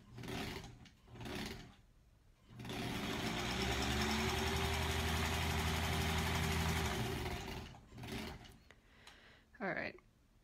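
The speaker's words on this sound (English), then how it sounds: "I'm gonna just sew the other side of this one." A home sewing machine stitching an American Spool quilt block runs in one steady humming, whirring burst for several seconds, close by, between brief spells of someone talking.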